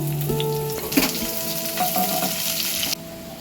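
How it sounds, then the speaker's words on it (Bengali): Onions frying in mustard oil in a kadai give a loud, steady sizzle that runs without a break, with a few brief stirring knocks partway through. "তেলের মধ্যে কিছুটা পেঁয়াজ আমি ভাজতে দিয়ে দিলাম"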